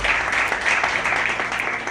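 Applause from an audience at a Mahavir Jayanti Mahamastak Abhishek ceremony at Shaheed Chowk, Mahal, Nagpur, a dense steady wash of many hands clapping together, fairly loud and continuous for a couple of seconds.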